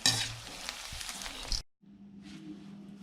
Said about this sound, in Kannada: ಚೆನ್ನಾಗಿ ಬ್ರೌನ್ ಆಗೋವರೆಗೂ ಸ್ವಲ್ಪ ಕರ್ಕೊಳ್ಳಿ. ಕ್ರಿಸ್ಪಿಯಾಗಿ ಬರಬೇಕು ಸ್ವಲ್ಪ.